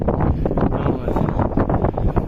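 Steady wind roars and buffets against a phone microphone in the mountains, a dense rumbling rush with no pauses, close and fairly loud.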